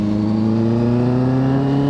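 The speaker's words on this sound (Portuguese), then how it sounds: "Mas o ronco tá demais essa moto, cara." A Honda CB650F four-cylinder motorcycle with a full 4-into-1 exhaust roars at steady, high revs, loud and close, with strong harmonic engine tones holding throughout.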